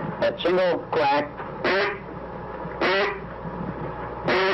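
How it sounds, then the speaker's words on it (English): Single quacks from a handheld duck call, sounded as a feed call near a duck hunting pond, each one a short nasal burst, repeated several times close up and loud, with no talk between them. "That single quack."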